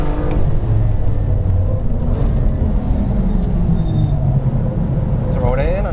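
A BMW M2 lapping the Laguna Seca track, its engine a dense, loud rumble through trail braking into a blind right-hander and back on the power, with a voice talking over it throughout.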